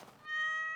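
A cat meows once in the farming video game Stardew Valley, a short, soft, tonal cry rising out of quiet and holding steady for under a second.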